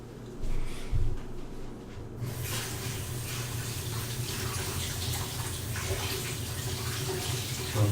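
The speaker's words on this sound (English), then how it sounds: "So I'm just rinsing my hands." Tap water runs steadily and fairly loudly while hands are rinsed under it, the flow starting after a couple of seconds of low clunks and then continuing without pause to the end.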